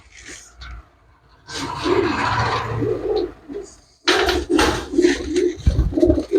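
Pigeons coo in low, repeated throaty pulses, up close. Bursts of broadband rustling or flapping separate the calls, and a short quiet gap falls between two active stretches.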